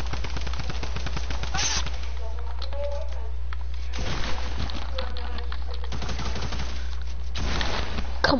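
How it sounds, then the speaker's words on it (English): Gunfire in a shooting video game, rapid machine-gun bursts repeating through the clip over a constant low hum, with voices talking in between. "Keep on shooting."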